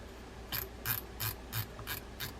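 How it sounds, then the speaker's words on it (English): A preset adjuster is fitted to a Penn International VISX 12 fishing reel, giving six quiet, evenly spaced ratcheting clicks, close up and alone. "take your preset adjuster, bring that on board."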